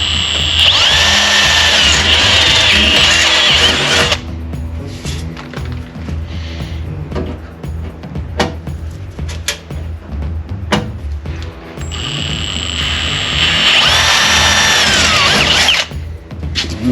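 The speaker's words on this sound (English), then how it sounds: "Pat's just going to go ahead and drill them." A power drill whines loudly into Jeep Wrangler Rubicon front fender metal in two long bursts, with clanks and handling noises in the quieter stretch between them.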